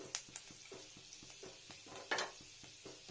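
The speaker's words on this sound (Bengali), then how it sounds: "দেখুন কত সুন্দর বাদামটা ভাজা ভাজা হয়ে গেছে।" Peanuts fry in a pan for a pumpkin-greens dish, a faint steady sizzle punctuated by regular scraping taps of a spatula stirring, with a couple of louder rustling stirs and no talk.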